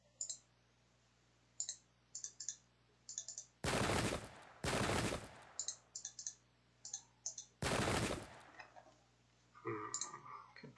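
Musket volley fire in the Pike and Shot strategy game, heard as a few loud, broad crackling volleys between runs of small sharp clicks, spaced unevenly across the stretch with no talk.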